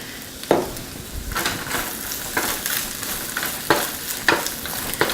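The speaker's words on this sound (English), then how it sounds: "I'm going to go ahead and add in my 2 cloves of minced up garlic and my 1/4 head of shredded cabbage" Minced garlic and shredded cabbage stir-fry in oil for phad-mein, a close, crackling sizzle broken by repeated scraping stirs of the pan at irregular intervals.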